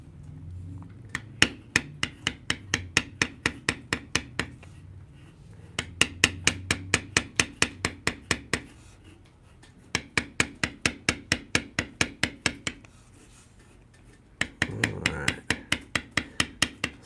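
A leather beveling tool is struck with a mallet in fast, even runs of sharp taps while beveling a knife sheath, close and crisp, the rapid series pausing briefly between passes.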